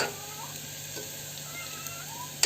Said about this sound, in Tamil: இப்போ வந்து வெங்காயம் வணங்கிட்டுருக்கு, நல்லா வணங்கிட்டுருக்கு.